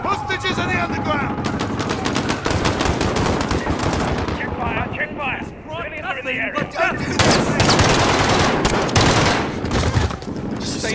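Dense automatic and rapid gunfire in a Modern Warfare underground hostage mission, continuous bursts and fusillades for the full stretch, loud and close, with shouted voices mixed in under the shooting.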